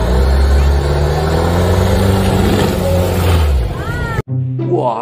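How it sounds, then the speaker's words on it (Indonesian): Jeep engine revving in Jurassic World Evolution 2, a loud continuous mid-range motor hum that shifts pitch before cutting off, followed by a voice talking. "Wadidaw, lihat ini teman, di sini ada mobil jeep teman."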